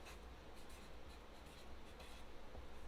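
A word being written on a kindness rock, heard as faint, close scratchy pen strokes in short repeated bursts over a low steady hiss.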